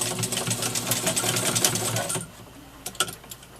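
A Commodore Super Deluxe class 15 straight stitch sewing machine runs in a fast, even mechanical chatter for about two seconds, then stops, leaving a few faint clicks.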